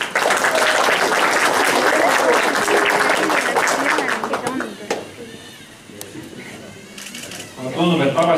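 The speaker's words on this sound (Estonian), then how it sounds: "aplaus!" Audience applause breaks out at a robot competition final, a loud busy burst of clapping under an announcer's voice, dying down midway before talk resumes.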